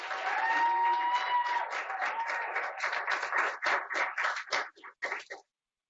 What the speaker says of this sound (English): Can we have one big round of applause for all of our speakers